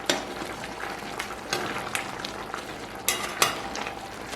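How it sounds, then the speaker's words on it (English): A spoon stirring Jamaican curry chicken back and chicken foot in a pot, soft sizzling broken by a few scraping strokes at irregular intervals, close and fairly quiet. "just stir that in"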